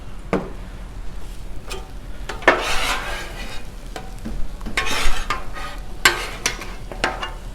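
Eggs frying on a Blackstone griddle at roughly 300 to 340 degrees, a close steady sizzle broken by bursts of spatula scraping and metal clinks against the flat top.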